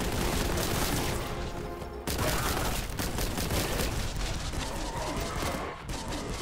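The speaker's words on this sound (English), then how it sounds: "Keep shooting." Gunfire rings out continuously in the Boltgun video game, dense repeated shots and booms layered close and loud with barely a break, over a couple of sharp pauses.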